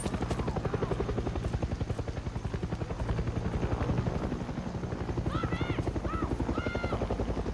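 A helicopter in the video game Far Cry 6 thuds with a loud, rapid rotor chop throughout, with brief high squealing sounds near the end layered over the steady beat.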